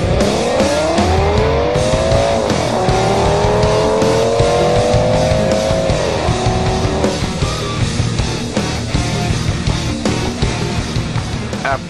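Race cars lap a slick road course with a chicane on a hot day, engines roaring loud and close throughout as whining revs rise and fall and tires scrub, with no voices over the continuous racing din.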